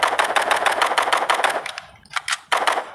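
Rapid automatic gunfire in an online shooting video game, a loud continuous burst of evenly spaced shots followed by two shorter bursts after a brief gap.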